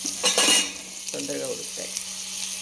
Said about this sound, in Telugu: మ్యారినేట్ అయినాక దీన్ని ఈ వేడిగా అయిన వాటిట్లో వేసేస్తున్నాను